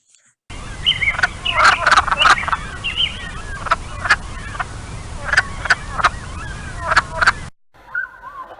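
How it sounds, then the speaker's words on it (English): Wood frog calls, short clucking croaks in quick clusters, repeated loudly several times over a steady background hiss, with no talking. "Here we listen to the wood frog call."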